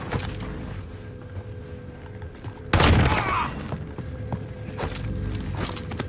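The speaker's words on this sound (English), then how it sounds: "I'm taking shots." Gunfire in Call of Duty: Warzone, with one loud, close blast ringing out mid-clip, fainter shots and scattered footsteps and movement around it.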